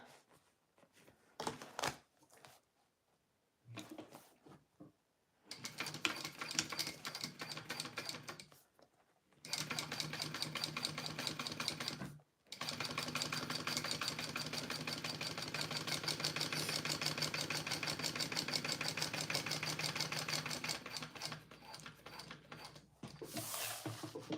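A sewing machine stitches a clear boxy bag, its rapid mechanical whirring running in long steady bursts separated by short silent pauses, fairly quiet and close.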